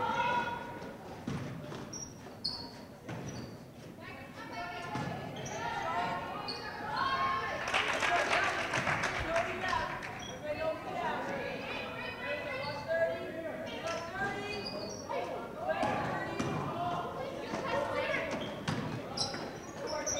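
A basketball dribbled on a high school girls' junior varsity court, rhythmic bounces heard under steady crowd noise, echoing gym ambience and commentary talk.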